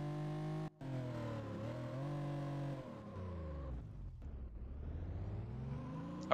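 A Porsche in the racing game Need for Speed Porsche Unleashed drives continuously, its engine note rising and falling through revs with a steady whine, one brief dropout near the start and a sharp burst at the end.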